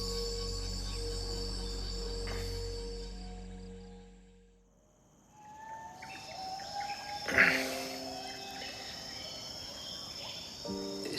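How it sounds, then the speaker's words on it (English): A dense dusk chorus of insects and frogs in a forest, steady chirring layers with a few scattered bird calls, fading briefly before rising again. "I can hear endless frogs, bugs, a few calls from the last few birds"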